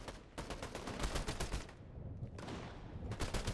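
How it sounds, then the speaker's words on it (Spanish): Rapid bursts of video game gunfire crackle almost continuously, dense and loud, with a short lull near the middle before the shooting resumes. "Estos que se están echando tiros"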